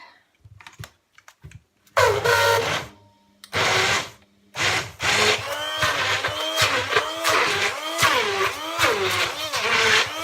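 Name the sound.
blender blending food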